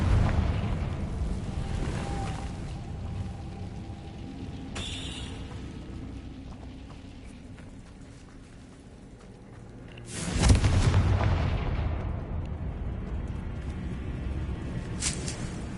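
A Confringo fire spell detonates in Hogwarts Legacy, a sudden loud boom around the middle that rolls off into a rumbling tail, with a smaller burst earlier, all over continuous low game ambience and no talk.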